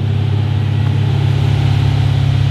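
An LS13-engined car up on a hoist runs in third gear, a loud, steady low engine drone held close and continuous with no voices.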